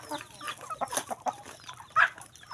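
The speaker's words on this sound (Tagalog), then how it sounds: "Pakain lang muna tayo guys ng ating mga manok guys" Chickens on a small farm at feeding time, several birds clucking in short overlapping bursts nearby, with one sharper squawk near the end.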